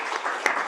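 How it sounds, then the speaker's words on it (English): Conference audience applauding panelists after a discussion, a brief burst of steady clapping in a hall. "please, everyone, give a round of applause to our panelists for such an insightful discussion."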